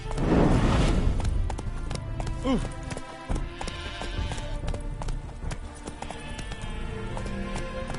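A horse gallops in The Witcher 3 video game with rapid, close hoofbeats and a whinny early on. The galloping continues under a speaking voice and game sounds.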